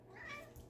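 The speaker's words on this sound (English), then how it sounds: "sorry, my cat." A house cat gives one short, soft meow close by indoors, brief and fairly quiet against a faint room background.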